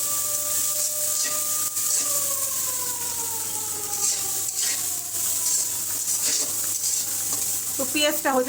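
Onions frying in a wok where greens are being tempered, a continuous close sizzle and stirring, with a faint siren-like tone drifting in the background and clattering toward the end.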